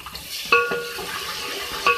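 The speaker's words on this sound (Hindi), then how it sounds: "इस मसाले को भूनेंगे, थोड़ा सा पानी ऐड कर रही हूँ" Masala sizzling in mustard oil as a little water is added and stirred with a spoon, steady frying hiss with clinks of the utensil against the pan, one sharper scrape-and-splash near the start and another at the end.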